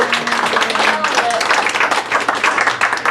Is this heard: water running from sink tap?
no